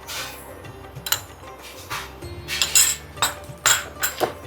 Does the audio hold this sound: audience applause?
no